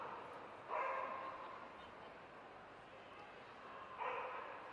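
A crossbreed dog at a dog agility show gives two short barks a few seconds apart, faint against the steady hum of a large indoor hall.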